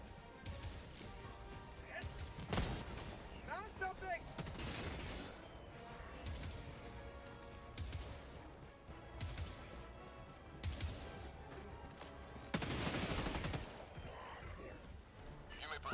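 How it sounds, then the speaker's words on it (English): Gunfire from a break action shotgun in the video game Helldivers 2, with several loud blasts and crashes spread across a busy battle soundscape, heard under a player's talk. "Break action shotgun."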